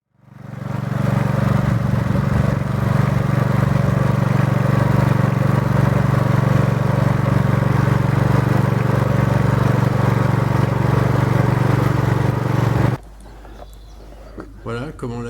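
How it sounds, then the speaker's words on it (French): A garden rototiller with its tilling discs fitted churns the surface soil of a former maize field strewn with straw and green manure, its engine droning loud and steady at close range for about thirteen seconds before cutting off abruptly. "la motobineuse a l'avantage, c'est de ne pas aller trop profond et de brasser vraiment la terre de surface"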